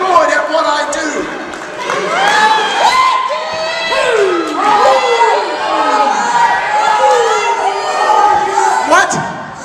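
A wrestling show crowd, heavy with children's voices, cheers and shouts in loud rising and falling waves, with whoops throughout and some clapping.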